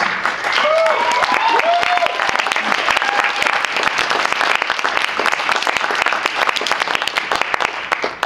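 A crowd applauds at a hip-hop poetry slam, with dense, loud, sustained clapping and a few whoops and cheers rising over it for about eight seconds.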